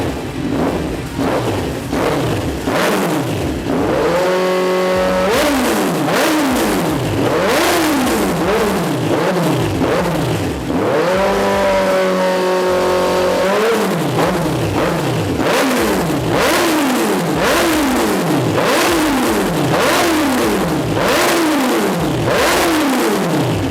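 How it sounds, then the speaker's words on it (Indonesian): A 2014 Kawasaki Z1000 Sugomi motorcycle with an aftermarket exhaust revs repeatedly, loud and close, its engine rising and falling in sharp bursts of throttle over a steady idle, with no talking. "kita akan dengerin suara knalpot dan suara mesinnya ya"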